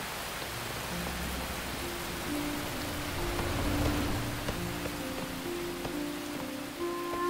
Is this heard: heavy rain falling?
yes